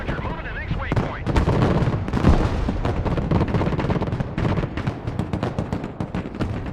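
Mortar and artillery fire in the video game Broken Arrow, a loud, dense run of booming thuds and crackling blasts that continues without a break, with voices partly audible beneath it.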